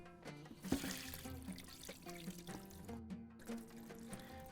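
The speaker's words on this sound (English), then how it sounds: "I'm going to drain off the water out of the rice." Water draining off soaked rice in a home kitchen while Bahraini dishes are prepared, a steady pouring splash with a few louder sloshes near the start, close and continuous with no talk.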